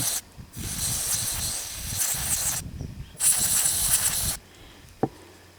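A can of carburetor cleaner sprays onto spark plugs from a Dodge 440 Futura RV engine in two long, close hissing blasts, followed by a faint handling clatter and a single sharp knock.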